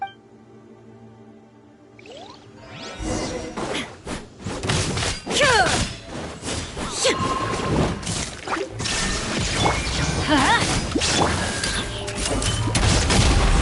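Explosions and impacts in the video game Genshin Impact break out after a quiet start, with a rapid, dense barrage of booms, thuds and crashes that grows louder toward the end.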